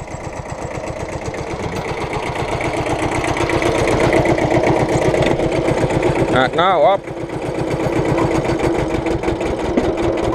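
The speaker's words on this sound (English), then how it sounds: "engine are throttling because of hydraulic pump working" A steady, loud diesel engine of a Kubota B7000 tractor drones throughout, its pitch and load shifting slightly midway as the hydraulic pump lifts a 300 kg concrete weight, with someone talking over it.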